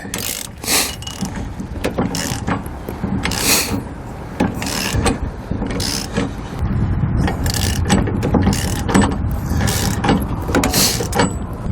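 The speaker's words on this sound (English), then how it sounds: "we're going to tighten this enough that that pin stays tight." A wrench tightening the nut on a weight-distribution hitch pin bolt, 27 mm nut and 1 1/8 inch head, for a 2014 Keystone Passport Ultra Lite trailer, giving loud close repeated ratcheting clicks and metallic scrapes in irregular bursts, without speech.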